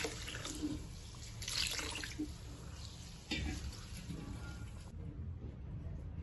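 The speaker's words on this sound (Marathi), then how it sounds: "असे छान तांदूळ आपण धुवून घेणार आहोत" Rice being rinsed in water for idli batter, a quiet, steady swishing and trickling with soft splashes and no talk.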